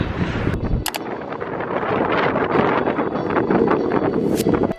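Strong spring wind on Jeju Island buffets the microphone in a steady, roaring rush, with a couple of sharp gusty thumps near the start and end.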